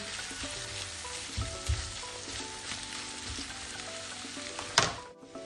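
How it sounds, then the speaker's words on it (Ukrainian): Chicken fillet pieces and mushrooms fry in a pan with a dense, crackling sizzle, broken by occasional utensil knocks and stirring scrapes, one louder clatter near the end. "Коли гриби вже підсмажились, ми сюди ж відправляємо філе курки."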